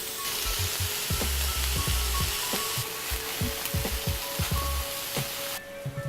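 Hamburger patties cook in a pan over medium heat without added oil, giving a steady sizzle with scattered pops and crackles and a few soft scraping knocks, and no voices.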